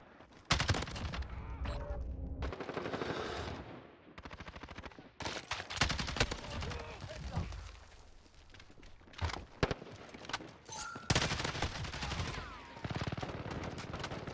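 Rapid gunfire from an MP7 submachine gun in the video game Modern Warfare, with bursts of shots and sharp impacts coming in clusters, loud and near, with footsteps and other game effects between them.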